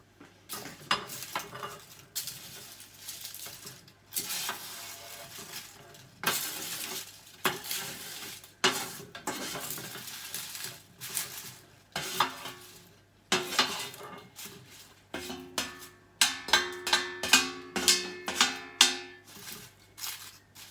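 Kale leaves being stirred and fried in a pan, with repeated bursts of scraping and clattering from the utensil against the pan and a steady low hum underneath, with no talking.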